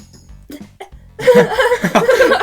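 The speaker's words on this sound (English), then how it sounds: "I'm still sick, so I coughed and it was like a weird little baby cough" A sick person lets out a short, odd little cough, a brief close burst that breaks into a few choppy, laugh-like bursts of breath right after.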